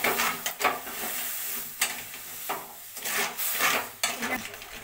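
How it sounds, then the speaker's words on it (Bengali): A spoon scrapes and knocks around a steel bowl of sugar and water being stirred into caramel, irregular close scrapes and clanks over a low sizzle, without speech. "যতক্ষণ আমি নাড়তে থাকবো যতক্ষণ না এটা ব্রাউন কালার আসছে"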